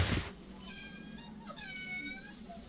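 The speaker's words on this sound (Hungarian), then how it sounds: "Macskák." Two drawn-out cat meows in a video game, each a clear tonal cry with rising and falling pitch, heard alone over a low background hum.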